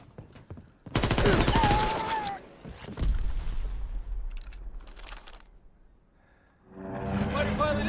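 Aircraft strafing run in Call of Duty WW2 on London Docks: a loud burst of gunfire sweeps in from about one second, dies back under lingering rumble, then heavier fire returns near the end, with a voice calling out over the action.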